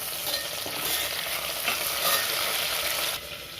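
Shallots, green chillies, mint and coriander fry in hot oil and ghee with whole garam masala for a mushroom biryani, sizzling loudly and steadily up close with faint stirring.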